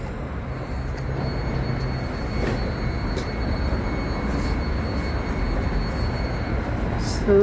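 A steady, close rumble of wheels and carriage fills the inside of a moving Caltrain, a constant roar that carries through the whole stretch while someone says a word briefly.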